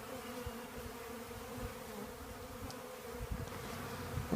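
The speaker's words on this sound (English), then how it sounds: "bees around the front collecting the sugar water" A steady low hum of a swarm of bees buzzing close by around a hive box, collecting sugar water, continuous and fairly quiet, with no voices.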